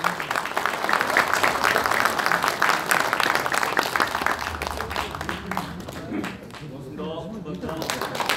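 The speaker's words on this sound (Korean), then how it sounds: "다시 한번 박수 부탁드리겠습니다." Sustained clapping from the audience at an Ansan football association inauguration night, steady and fairly loud for several seconds before tapering off, with some talking mixed in toward the end.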